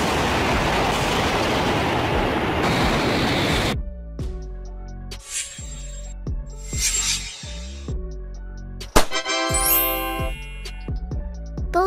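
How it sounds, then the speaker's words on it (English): A high-speed bullet train passes on rail tracks, starting with a loud rushing roar, then rhythmic wheel clatter and a rising metallic squeal, with no talking. "A high-speed train used to transport passengers quickly on rail tracks."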